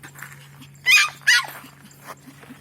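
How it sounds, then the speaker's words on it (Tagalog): Several dogs at a lakeside picnic spot in Lipa, Batangas give two short, loud bursts of barking and yelping close by, separated by a brief pause, over a steady low hum, with faint sounds before and after. "Wow, so many dogs."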